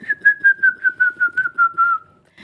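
A person whistles to imitate a kiskadee bird call: about ten quick, evenly spaced pulsed notes on a slowly falling pitch, close and clear, with nothing else heard.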